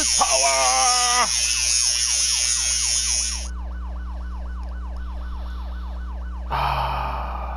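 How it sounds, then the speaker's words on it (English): A loud electronic siren wails in a repeating up-and-down sweep, sounding like a hockey goal horn, alone without talk. "See, that's a goal siren right there."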